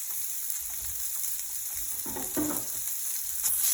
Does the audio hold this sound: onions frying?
yes